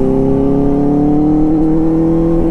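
A Benelli 600i motorcycle fitted with an SC Project aftermarket exhaust revs loudly and steadily, its engine note holding high and slightly rising across a couple of seconds with no talk.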